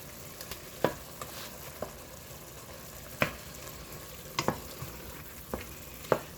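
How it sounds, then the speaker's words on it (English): Tomato paste cooks in a pot for vegetable beef soup, a soft continuous sizzle broken by several sharp scrapes and taps of a spoon stirring against the pot, close up and without speech. "whenever I cook something with tomato paste, I always like to kind of cook it a little bit before I just add it to a broth or something"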